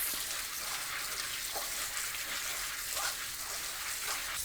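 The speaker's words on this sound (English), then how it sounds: "I'm going to use a colander to rinse my beans." Moong beans are rinsed in a colander under steady running water, a continuous close hiss and splash throughout with faint shifting spatters and no talking.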